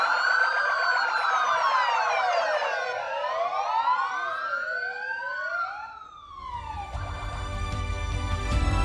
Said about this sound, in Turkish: İtfaiye araçlarımızın sirenleri eşliğinde